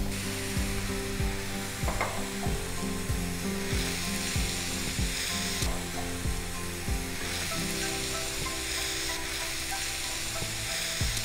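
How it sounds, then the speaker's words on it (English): Ground beef, cheese, salsa and cilantro filling for beef quesadillas stirred in a skillet, a steady soft sizzle under repeated scraping and clacking strokes of the utensil against the pan, with no talk. "Gonna give this a good stir until it's combined"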